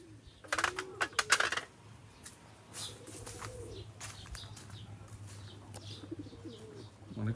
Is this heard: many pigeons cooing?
yes